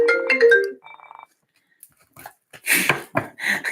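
A phone sounds with an incoming call: a brief tonal ring chimes close and clear after a stretch of other noise, followed by quiet and then breathy rustling sounds.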